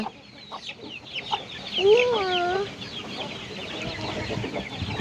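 Naked neck chickens on a farm cluck softly and repeatedly, with one louder drawn-out call near the middle over a low background of outdoor noise.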